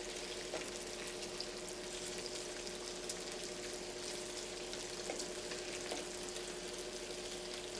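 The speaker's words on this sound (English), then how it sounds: "You can see it sizzling up there." Food sizzles in a hot pan with a steady, even crackle and hiss. It is close but fairly quiet, with no voices over it.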